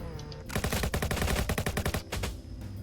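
Rapid automatic gunfire in the Roblox game Jailbreak, a loud, close burst of fast, evenly spaced shots lasting about two seconds, followed by a couple of trailing rounds.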